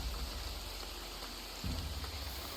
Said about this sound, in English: Let's go to a place where it isn't completely loud and raining.